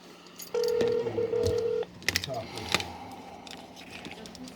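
Telephone keypad tones dial out to the U.S. State Department command center, a long steady tone followed by several short separate beeps, heard close over low room noise with faint voices nearby.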